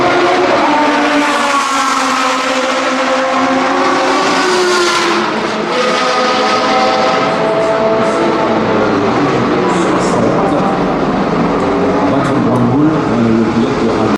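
In Gran Turismo 7, a Jaguar XJR-9 Le Mans prototype race car's engine roars loudly and continuously, rising and falling as it revs through the gears, with brief tire squeal, and no other sound over it.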